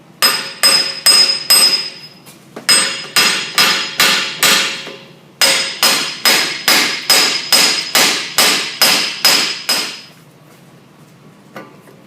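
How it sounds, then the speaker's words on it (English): Rapid series of sharp metallic hammer taps in bursts knocking a corroded wheel bearing off the front knuckle of a 2006 Volkswagen Jetta TDI, each strike ringing briefly, loud and close, then quiet at the end. "you can just take a hammer and tap it off of it"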